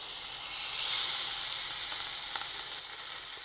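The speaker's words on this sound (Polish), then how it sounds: "Na bardzo mocno rozgrzaną patelnię wrzucamy naszego steka" A loud, continuous sizzle of beef steak frying in a very hot pan, steady hissing with a few faint pops.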